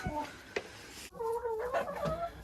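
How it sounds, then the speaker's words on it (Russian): Hens cluck inside a poultry enclosure, a close, busy run of short throaty clucks and drawn-out cackles from several birds, with a faint background voice. "Вот, смотрите, уже пошла нестись курица."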